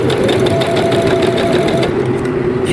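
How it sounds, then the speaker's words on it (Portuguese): Sewing machine stitching fabric diagonally with the presser foot lowered, a loud, close, continuous motor whir with rapid needle chatter running nearly the whole time, no voices. "Agora nós vamos costurar o tecido na diagonal, abaixo o pezinho, e vamos passar uma costura"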